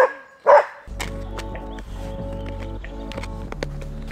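A single sharp bark rings out, followed by a steady hum of background activity with scattered clinks and knocks.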